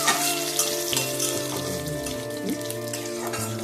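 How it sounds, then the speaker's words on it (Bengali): Crushed raw garlic frying in hot oil in a pan makes a continuous crackling sizzle, heard under a steady tonal music bed with no speech. "রসুনটা থেতো করে ছেড়ে দিলাম। একটু লাল লাল করে ভেজে নিই।"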